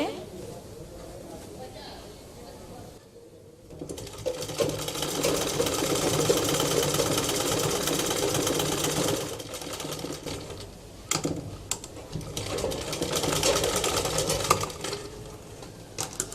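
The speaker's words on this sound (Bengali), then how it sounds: "কুচি দেওয়া কোমরের এই সেলাইটা ডাবল করে হবে" A sewing machine double-stitches the gathered waist of a baby frock with a steady, fast mechanical whir that pauses briefly and resumes, running loud and close for the rest of the stretch.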